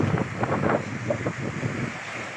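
Wind buffeting the microphone over rumbling, fairly strong ocean surf at San Narciso, Quezon, with a faint voice murmuring underneath.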